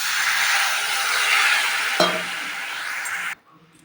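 Water hits a hot frying pan of tomato, onion, turmeric and chopped ginger masala, giving a loud, steady hissing sizzle. A single metallic clink sounds partway through, and then the sizzle drops abruptly to near quiet.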